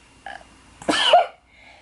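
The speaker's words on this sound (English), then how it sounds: "I'm about to sneeze." A single sneeze bursts out sharply after a short intake of breath, close and loud, then quiet.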